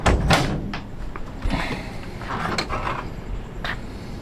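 Opening the sliding side door of a 1969 Chevrolet G10 Deluxe Sportvan with a 307 V8 produces a sharp thump, then sliding rattles and clunks, loud and close.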